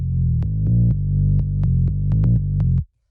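A warm, fat FM-synthesized bass, second oscillator turned up and lightly saturated, plays a bouncy run of sustained notes in a steady groove for almost three seconds before stopping abruptly.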